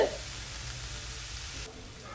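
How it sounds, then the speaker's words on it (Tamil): Onions sautéing in a pan with drumstick flowers, a steady low sizzle and crackle running close and continuous, fading slightly toward the end. "வெங்காயம் நல்லா வதங்கி வரணுங்க ஆனால் கருக்கக்கூடாதுங்க"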